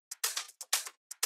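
Crisp, bright hi-hat hits in a sparse Afro house pattern, short ticking strikes alternating with slightly longer open hats, dry and close with no other instruments or voices.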